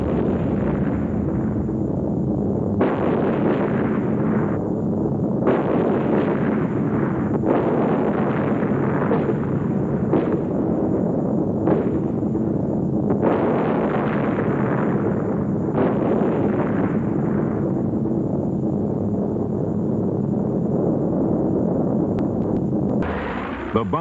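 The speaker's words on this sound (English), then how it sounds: "it had to run the gauntlet of anti-aircraft fire without deviation" Anti-aircraft fire and explosions burst around B-25 Mitchell bombers on a wartime bombing run: a dense, continuous roar with repeated heavy blasts swelling and fading over a steady low rumble.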